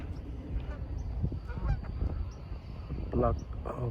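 Geese honking on a hike near a waterway with ships, several nasal honks scattered over a few seconds, at moderate distance over an outdoor background.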